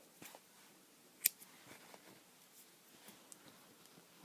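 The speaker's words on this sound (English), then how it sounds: "I'm going to cut the yarn" Scissors snip through crochet yarn in a quiet room, one sharp close cut standing out among soft faint rustles and small handling clicks.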